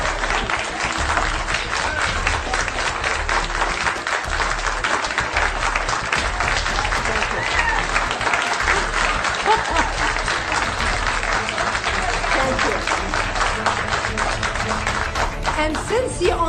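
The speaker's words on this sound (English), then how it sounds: "save the applause till the end." Sustained, dense applause from a large audience, loud and unbroken from start to finish, with crowd voices mixed in underneath.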